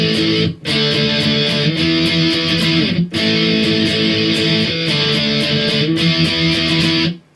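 Distorted electric guitar strumming the chorus of the song as a jam track, loud, dense power chords in a steady rhythm with brief breaks, no talking.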